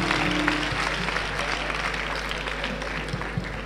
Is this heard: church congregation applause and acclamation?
yes